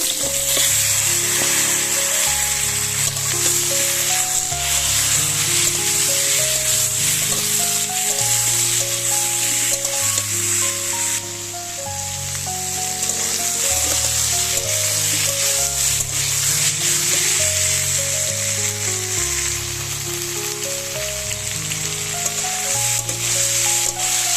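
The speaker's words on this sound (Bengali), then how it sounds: "আমি ওই তেলেই পটলগুলো ভাজা করে নেব" Steady oil sizzle and crackle throughout as pointed gourd fries in oil, a continuous hissing fry with faint tonal sounds underneath, no voices.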